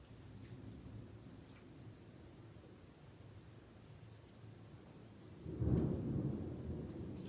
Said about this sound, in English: Can you guys hear that thunder? It's doing a lot of thunder right now.